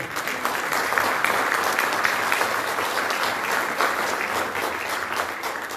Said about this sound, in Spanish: Lo recibimos con un fuerte aplauso, por favor.